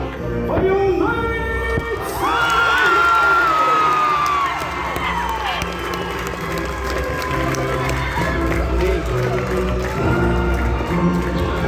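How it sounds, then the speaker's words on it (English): Audience at a Medieval Times dinner show cheering for the knights, a loud sustained roar of many voices with children's shrieks and whoops rising and falling throughout. "raise a final cheer for your knights"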